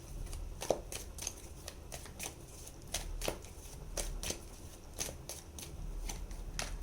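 Tarot cards are shuffled and drawn in a steady run of crisp, close riffling clicks and soft papery slaps, with no voice.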